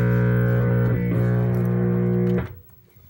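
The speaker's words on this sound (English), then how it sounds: "if it's making a humming sound, does that mean there's something wrong?" A 1959 Magnavox black and white television gives off a steady, loud electrical hum with strong harmonics that cuts out abruptly near the end, leaving faint residual noise.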